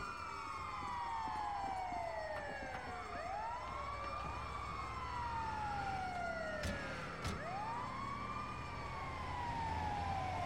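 Ambulance siren in GTA 5, a wailing tone sweeping up and down repeatedly over ten seconds, steady and fairly near above a low engine rumble.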